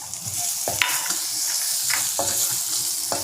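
Ripe chilies stir-fried in a pan, a continuous sizzle broken by several sharp spatula scrapes and clanks against the pan at irregular intervals, close and fairly loud.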